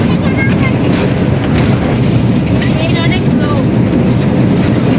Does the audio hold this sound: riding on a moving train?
yes